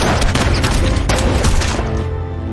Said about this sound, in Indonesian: Daeho pun saling tembak dengan kolonel dan menyebabkan kolonel tewas di tempat